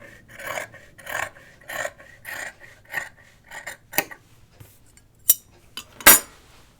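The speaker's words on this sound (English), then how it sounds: "It's not quite straight, so I'm just kind of trimming it." Scissors trimming an uneven fabric edge for sewing pajama bottoms, a run of about seven rhythmic rasping snips followed by a few sharper clicks and a louder final snap, close and clear with no talking.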